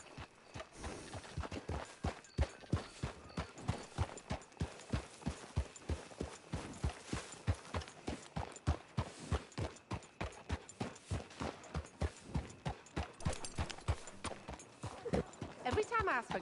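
Horse hooves clip-clop in a steady, even rhythm for the whole stretch, fairly close, with a few faint clicks mixed in, from the video game Red Dead Redemption II.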